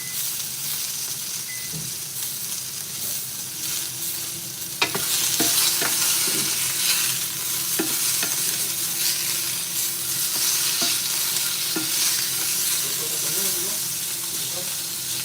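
Small steak bites sizzle loudly in a hot pan, a dense steady crackle broken by sharp clicks and scrapes of a utensil stirring the meat.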